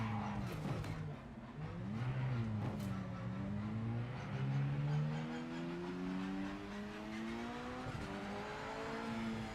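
A standard BMW road car in the Project Motor Racing game revs and accelerates through the gears, its engine note climbing and dropping repeatedly with brief tire squeal, loud and close with no talk.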